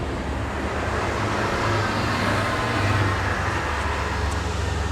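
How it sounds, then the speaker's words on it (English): School buses and taxis passing by on a residential street in the early morning, a dense continuous roar of traffic heard from a balcony, loud and steady with no voices. "there's a lot of school buses passing by and taxis"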